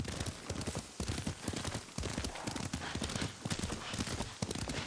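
Steady, rhythmic clip-clop of horse hooves at a gallop in the video game Ghost of Tsushima, close and loud, continuing without pause throughout.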